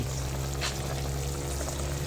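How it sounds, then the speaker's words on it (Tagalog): Constant bubbling and sizzling of tinola soup with sponge gourd boiling in a pot, a dense steady hiss close by with no voices. "Kumukulo na po siya. Kumukulo na guys."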